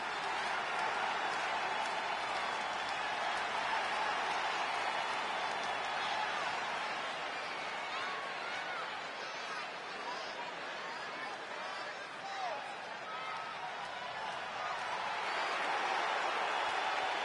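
A steady wash of crowd noise and applause fills an arena during a WWE 2K20 wrestling broadcast, moderately loud and continuous, with commentators talking over it.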